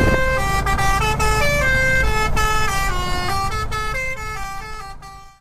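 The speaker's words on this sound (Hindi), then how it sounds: "भाई हॉर्न बजाओ हॉर्न।" A steady chorus of car horns blares continuously in busy Indian road traffic in Odisha, layered with road noise and a siren-like wail, fading slightly near the end.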